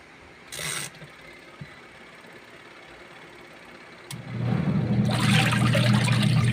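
An old washing machine loaded with two buckets of water starts its spin cycle, a steady churning rumble with watery swishing that swells to a loud, continuous drone after a quieter stretch.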